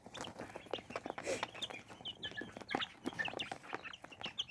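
Young chickens in a cage, including Blue Laced Wyandotte, Serama and Buff Brahma, clucking and peeping in short, scattered calls over a low background hum, fairly faint and with no talking.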